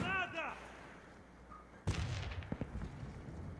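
A grenade blast in the shooter game Warface, a sharp loud burst followed by a few crackling pops and a rumbling tail, preceded by a voice calling out.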